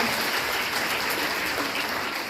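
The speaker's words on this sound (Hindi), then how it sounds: "एक बार जोरदार तालियां बजाइए." Loud, dense applause from a crowd at a women's employment gathering in India, a steady unbroken wash of clapping from start to finish.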